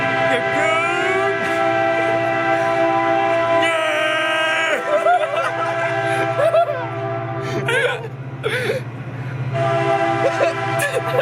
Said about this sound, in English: Intermission while this train goes by.